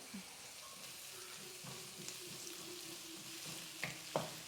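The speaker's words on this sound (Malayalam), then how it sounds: "എല്ലാം കൂടെ നല്ലോണം മിക്സ് ചെയ്ത് ഇളക്കി മൂപ്പിക്കണം" Curry leaves and ginger garlic paste frying in oil for green peas curry, a soft steady sizzle with a few light stirring scrapes and small pops, fairly faint.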